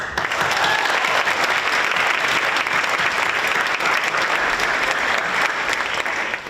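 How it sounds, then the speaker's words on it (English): A large audience applauds the current teachers at a Media Arts Center 10th anniversary event, a dense, steady wash of clapping that fills the room from start to finish with no voices over it. "let's get a huge round of applause for all our current teachers"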